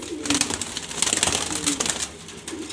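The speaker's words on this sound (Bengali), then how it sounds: "এখানে সব বাছাই করা গ্রিজেল কবুতর নর মাদি" Grizzle pigeons, both male and female, coo near and steady in a loft, with soft overlapping throaty calls repeating throughout and a little rustling.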